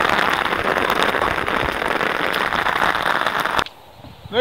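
A heavy Irish downpour, dense hissing rain with crackling drops pattering close on a surface for several seconds, then cutting off abruptly into near quiet.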